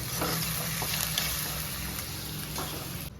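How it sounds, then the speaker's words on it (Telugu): Onions and mutton pieces sizzle and fry in a pan for a mutton curry, a steady dense crackle with occasional stirring scrapes, close and fairly loud, with no talking. "ఎర్రగా దోరగా వేయించాక అప్పుడు మటన్ వేసి మటన్ కూడా వేయించాలండి"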